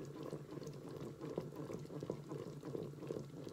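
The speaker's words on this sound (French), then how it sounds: "Je vais jeter tout doucement la semoule" Semolina tipped slowly into a hot pot of liquid, giving a steady low simmering bubble with soft, irregular pouring and tapping sounds, moderately quiet and alone.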